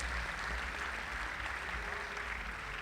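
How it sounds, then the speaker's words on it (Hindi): An audience claps at an outdoor Hindi comic poetry gathering in Kurukshetra, with broad, steady applause heard faint and distant throughout and no speech over it. "अगर अच्छा लगा हो तो एक बार ताली बजाएं साहब सारे"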